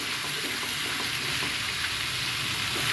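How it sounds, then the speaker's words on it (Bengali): Egg and meat sautéing in mustard oil in a pan, a steady, moderately loud sizzle and crackle that runs unbroken throughout, with no talking. "এখন আমি ডিমটাও দিয়ে দিয়ে কষিয়ে নেব সুন্দর করে"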